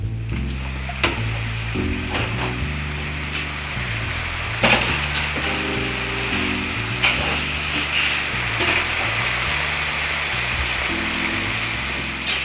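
A filet mignon seasoned with salt, pepper, basil and thyme frying in a pan, giving a steady, close sizzle with a few louder pops and crackles spread through, and no talking.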